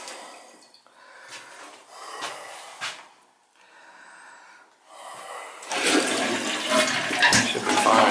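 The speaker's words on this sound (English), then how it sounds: "He's gonna go downstairs and I'm gonna flush it." A toilet in a large three-story mansion, being checked after a flange repair, flushes with a loud rushing surge of water that builds and fills the last few seconds after quieter shuffling and breathing noises.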